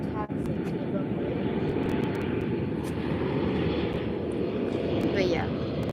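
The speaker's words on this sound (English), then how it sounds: "Now we have the Welling Athletic Club de Bilbao livery taxi to the runway" An airliner in Athletic Club de Bilbao livery taxiing to the runway at Málaga Costa del Sol Airport, a steady roaring engine whine heard from a distance with faint rising tones and a voice talking over it.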